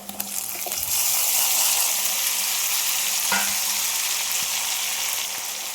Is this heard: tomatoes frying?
yes